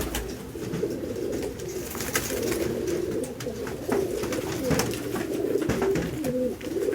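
Ambarsariya pigeons cooing close by in a loft, overlapping soft low coos repeating throughout with faint wing flutters and scattered clicks in the background.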